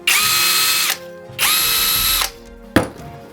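A brushless cordless screwdriver whirs in two sustained high-pitched bursts with a pause between, followed by a short sharp click and a faint tail.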